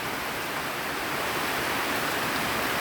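Storm rain lashes down steadily in Sisaket, a thick, loud wash of hissing water that holds constant throughout without voices.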